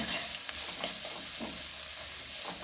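Sliced onions with salt sautéing in a pan for a leftover idli dish, a constant close sizzle broken by a few soft stirring scrapes.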